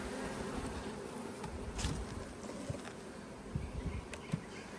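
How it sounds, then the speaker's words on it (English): A dense swarm of honey bees hums continuously around a hive box, close and steady, with occasional soft knocks and rustles mixed into the buzzing. "So you got a box of bees there."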